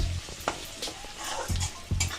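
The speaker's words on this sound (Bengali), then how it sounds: "পেঁয়াজগুলো আমি একটু ভেজে নেব" Chopped onions with two dried red chillies frying in hot oil for egg tadka, a steady close sizzle broken by several short bursts of stirring and scraping in the pan.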